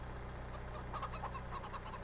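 Chickens cluck in a Farming Simulator 22 farmyard, a scatter of short, soft clucks over a steady low engine-like drone.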